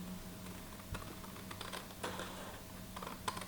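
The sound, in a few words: scissors cutting paper along a fold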